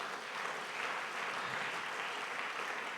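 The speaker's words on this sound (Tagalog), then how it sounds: "Palakpak sa Panginoon." A church congregation at a Sunday service applauds, steady dense clapping heard from a distance, fairly faint and continuous without speech.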